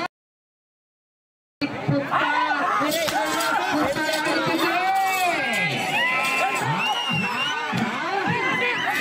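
A crowd shouts and cheers at a village race in Konarajupalli, with an old-category entry; loud, continuous overlapping voices and whoops start after a short silence and fill the rest of the clip.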